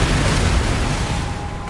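A Confringo blasting spell bursts in a fantasy wizarding game, a loud, dense explosive roar filling the whole moment and slowly fading toward the end.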